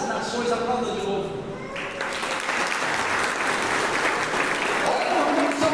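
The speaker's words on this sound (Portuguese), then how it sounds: "Aplauda de novo." Congregation at a Catholic prayer meeting applauding loudly and continuously, a dense clapping crowd that swells and stays strong throughout, with voices mixed in.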